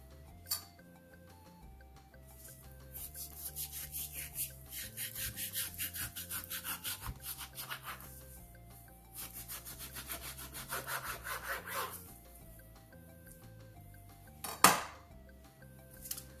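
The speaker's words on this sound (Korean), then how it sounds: "이 끝쪽, 이쪽 살코기 끝쪽을 직선으로 잘라주세요." A knife slices through a Costco beef brisket on a board, cutting a straight line along the end of the lean meat. Close, rhythmic sawing strokes come in two bursts, and a sharp knock sounds near the end.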